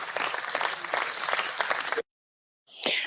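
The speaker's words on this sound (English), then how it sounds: "Sarah, I'd love to get you to clap for us if you could." Clapping from participants in an online web-design class session, a few seconds of scattered hand claps that cut off abruptly into silence before a brief sound returns at the end.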